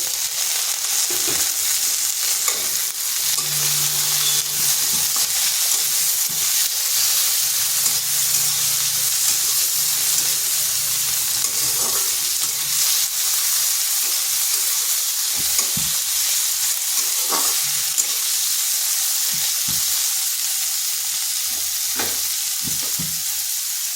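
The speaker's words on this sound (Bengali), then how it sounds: "আর দিচ্ছি একটা টমেটো" Onion, green chillies and tomato sizzle and fry in a pan while being stirred, a steady close hiss with scattered scraping clicks of the spatula throughout and no talking.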